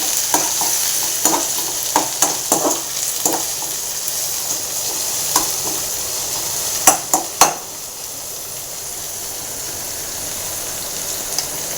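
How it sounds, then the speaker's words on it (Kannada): Curry leaves frying in a pan, a steady close sizzle broken by sharp scraping and clinking strokes from stirring, which cluster near the start and again toward the end. "ಕರಿಬೇವು ಸೊಪ್ಪನ್ನು ಸೇರಿಸ್ಕೊಂಡ್ಬಿಡ್ತಾ ಇದ್ದೀನಿ ಜಸ್ಟ್ ಫ್ರೈ ಆಗಲಿ"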